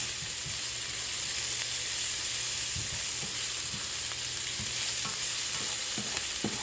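Vegetables for vegetarian fried rice fry in an oiled pan, a loud, continuous sizzle punctuated by repeated spatula stirs and scrapes, heard close with no talking.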